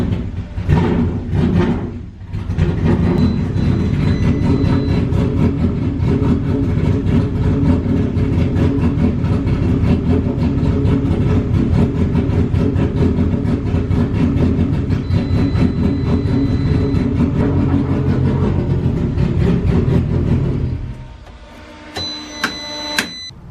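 Honda B20 VTEC engine in an EF hatchback fires up and runs steadily at a loud, near idle for about twenty seconds, then shuts off, leaving a few faint clicks.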